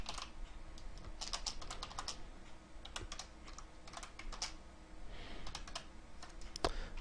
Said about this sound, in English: can't type today, my keyboard's being kind of funky